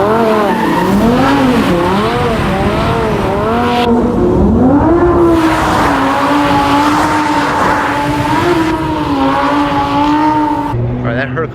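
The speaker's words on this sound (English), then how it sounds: "That Huracan drifting around this parking lot is completely crazy" A Lamborghini Huracan drifts around a parking lot, its tires squealing in long, wavering wails that rise and fall over the roaring engine. A short pause breaks it midway before the squeal picks up again, and voices are faintly mixed in.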